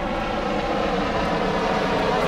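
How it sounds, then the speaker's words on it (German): An ADAC rescue helicopter flies over Hamburg harbour at Waltershof. Its rotor and engine make a loud, steady roar that fills the whole short stretch without any break, with no voices over it. "Ein Hubschrauber."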